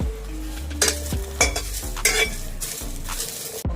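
Garlic, green chillies and ginger pieces roasting in hot oil, a loud close sizzle broken by regular scraping stirs of a spoon against the pan, about one every half second, with no talking.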